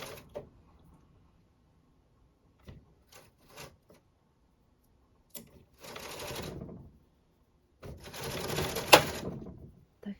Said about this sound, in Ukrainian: Заправляємо ниточку в каретку. Вяжемо перший ряд.